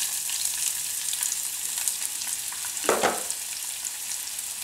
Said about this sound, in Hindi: इसमें हम क्यूमिन सीड डालेंगे और इसको थोड़ा सा टेम्पर करेंगे और गैस मीडियम कर देंगे और अब हम इसमें अनियन डालेंगे